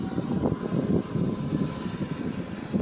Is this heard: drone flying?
yes